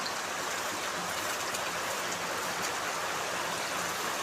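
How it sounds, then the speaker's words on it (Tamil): Heavy rain pouring down outdoors in a rural village, a dense, unbroken roar of drops close by that holds at constant loudness throughout, with no voices. "மழை பெய்யுது பார்த்தீங்களா?"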